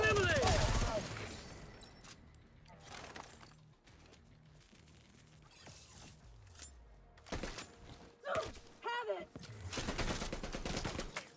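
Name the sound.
gunfire in a video game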